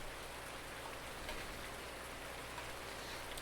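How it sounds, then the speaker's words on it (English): Steady rain falls in Farming Simulator 19 as an even, continuous hiss of drops at a moderate level, with no talking. "listening to rain all day, either in in Farming Simulator or in outside my windows"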